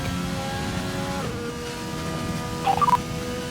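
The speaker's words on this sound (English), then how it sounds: "Sorry about that. That's my phone going off." A phone notification set to a Formula 1 style engine sound goes off: a steady car-like drone with a brief rising, warbling tone burst near the end, heard alone without talk.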